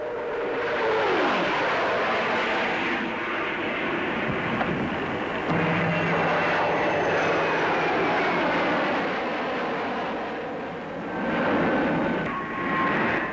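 A de Havilland DH-113 twin-seat jet night fighter flies past at the 1949 Farnborough air show, a sustained roaring whine with shifting pitch as it passes, rising and falling in loudness, no speech over it.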